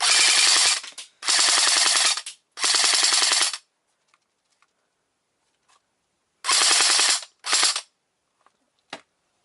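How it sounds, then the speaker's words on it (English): A Black Ops Tactical M4 Viper BB rifle fires on full auto in loud, rapid rattling bursts, three long ones, then a gap, then two shorter bursts and a final single snap, close to the mic. "We are now on full auto. Firing 5, 4, 3, 2, 1."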